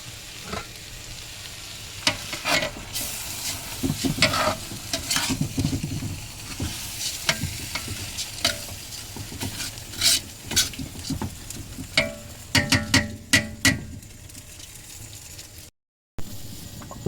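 A spoon stirs lugaw, Filipino rice porridge with fish sauce, in a pot, scraping and clinking in irregular bursts over a low bubbling simmer, with a brief silent gap near the end.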